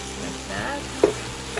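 Spinach and tofu sizzle in a hot pan with a soft, steady frying hiss, broken by a scrape or stir about two-thirds through and a fainter clink near the end.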